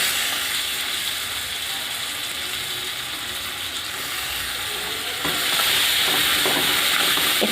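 Chopped onion sizzles and fries in hot oil in a pan after garlic and tempering spices, a steady hiss that grows brighter and louder partway through as the onion goes in, with occasional stirring clatter and no talking.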